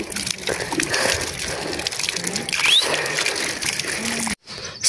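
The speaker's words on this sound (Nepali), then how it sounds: "गाउँघरतिरको लोकल धारो।" Water gushes steadily from a local village spout in the Nepali hills near Barekot, a continuous splashing flow that fills the clip before cutting off abruptly near the end.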